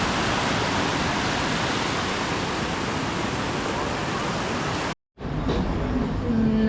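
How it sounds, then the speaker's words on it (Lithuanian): Ocean surf rolls onto a beach in Thailand as a loud, steady wash of noise with no clear individual breaks, cut off briefly near the end before a different background resumes. "Kitiem gaunasi, čia bangos tokios geros."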